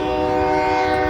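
A train runs past steadily and close, its horn sounding long and loud with strong sustained harmonic tones over continuous rail rumble, and no voices throughout.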